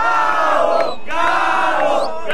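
A crowd at a rap battle final roars and shouts loudly, two big surges of massed voices rising with a short dip between them, close and overpowering.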